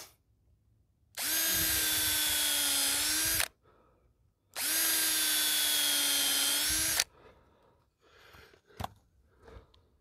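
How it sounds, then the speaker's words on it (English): Two steady bursts of a power drill whirring as it pre-drills a wooden board, each a few seconds long, separated by a pause and followed by light handling noises. "Just line your board up, pre-drill it."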